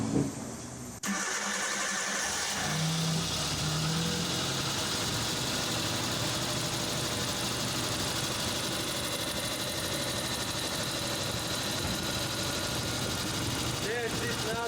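A Suzuki Samurai with a newly replaced fuel pressure regulator cranks and catches, then runs in a steady, rough mechanical drone for many seconds, fairly faint and heard alone after a brief opening thump.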